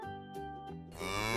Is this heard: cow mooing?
yes